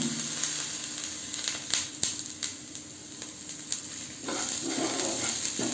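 Chicken soup ingredients, including chopped ginger pieces, sizzle steadily in a pan as salt is stirred in, with scraping stir sounds and crackling pops close by, no talking.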